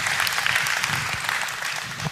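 Audience applause from a seated crowd at a science debate, a dense steady patter of many hands clapping at moderate distance, holding level for the full stretch with no voices on top.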